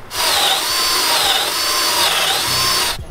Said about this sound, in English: And now we drill.